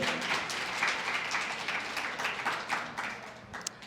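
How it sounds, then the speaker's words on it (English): An audience at a female entrepreneurs panel during a conference applauds, a fairly quiet, steady patter of many hands that thins slightly toward the end. "Give her a hand of applause."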